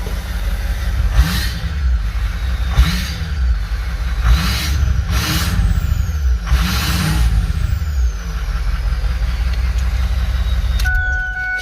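A Ford 6.0 Powerstroke diesel truck engine revving close by, a deep steady idle rumble broken by about five rising throttle blips, ending with a brief hiss; no talking.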